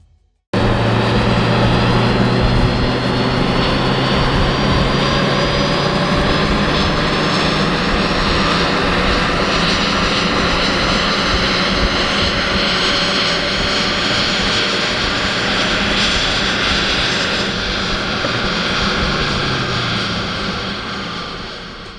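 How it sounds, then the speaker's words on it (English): A 2019 Ford Focus ST 2.3L engine running hard on a dyno at close range, a sustained loud roar whose pitch slowly rises before tapering off near the end. "now we are strapping the car onto our dyno to see how much power we can get out of it."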